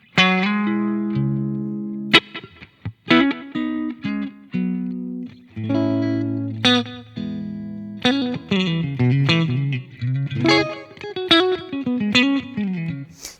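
An electric guitar runs through a BOSS GT-1000 effects processor, playing clean, sustained chords and melodic single-note lines with ringing bends and a touch of ambience, up close with no voices.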